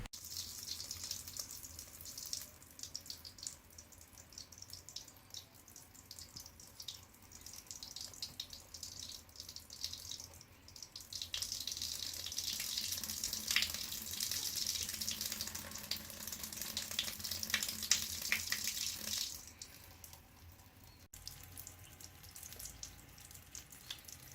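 Water runs from a tap in a smooth laminar stream, giving a soft, steady hiss that swells louder in the middle and then eases off, with no voices.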